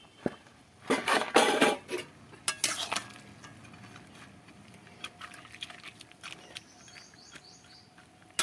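Stalks of pipli greens drop into a pot of fish-roe curry with potatoes, giving a burst of clattering and rustling, then scattered stirring knocks and soft patter at close range.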